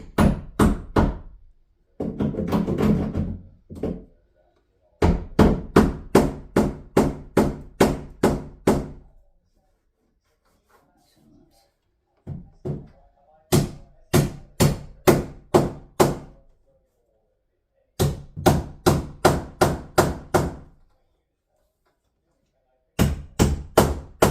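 Bursts of rapid, sharp hammer strikes in quick rhythmic runs on a staircase, separated by short pauses, close and loud, with brief murmuring in one quiet gap.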